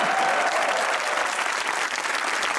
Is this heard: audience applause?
yes